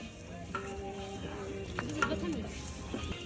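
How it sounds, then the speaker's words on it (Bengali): Chicken being stirred into khichuri in a pot: soft scraping and stirring with a quiet sizzle underneath, close but faint, with brief clinks and faint background voices. "জামাই বউ দুজনে একসাথে এখন মুরগি গোস্ত আর লাড়াচাড়া দিচ্ছে খিচুড়ির ভিতরে"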